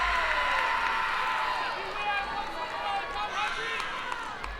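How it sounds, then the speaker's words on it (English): Home crowd at a college softball game between LSU and Texas A&M, a steady murmur of many voices that swells slightly, with a commentator talking over it throughout. "And the home crowd is getting a little bit louder."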